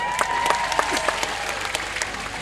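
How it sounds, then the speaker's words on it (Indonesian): An audience claps at an Islamic religious gathering with a woman preacher in Lampung, a dense burst of applause from many hands that stays fairly even and then tapers slightly, with no speech over it. "Dan ternyata tepuk tangan dulu."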